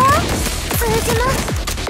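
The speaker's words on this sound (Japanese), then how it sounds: "手裏剣 発射" Shuriken launches in the video game Blue Archive, several quick whooshing swipes and impacts layered over continuous game effects and background music, with a voice speaking between them.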